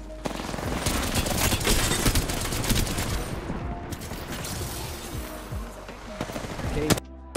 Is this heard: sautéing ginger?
no